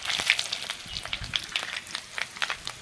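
Panch phoron spices and bay leaves crackling in hot oil in a pan, a close, soft sizzle dotted with quick pops and spits.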